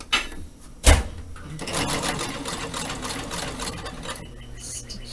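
A sewing machine stitches across the pleats of a fabric face mask, running steadily for several seconds at close range after a brief sharp knock near the start, with a voice talking over it.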